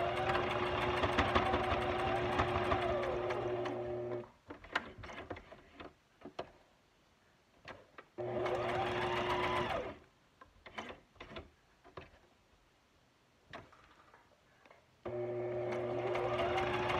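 A sewing machine zigzag-stitches across paper Christmas ephemera in three steady whirring bursts, separated by quieter stretches of clicking and handling noises.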